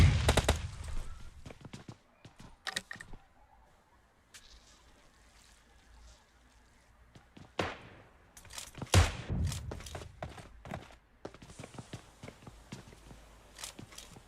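Bursts of gunfire and grenade blasts during a battle royale video game firefight, loud sharp cracks and booms scattered irregularly through the clip with quieter gaps between.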